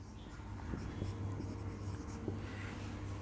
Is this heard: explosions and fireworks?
no